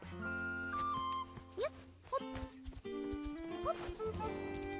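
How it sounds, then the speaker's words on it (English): Horse hooves clip-clop in the Zelda: Echoes of Wisdom video game, brief clopping steps set against bright, tuneful game music and chiming effects. "Oh, horses!"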